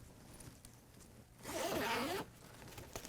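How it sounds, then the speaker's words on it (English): A zipper on a Jeep soft top is pulled open in one quick, close rasping run lasting under a second, with quiet rustling before and after. "we have to unzip,"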